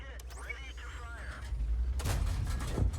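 Video game gunfire comes as scattered sharp shots over a background of mechanical whirs and chirps, building into heavier, louder bursts toward the end.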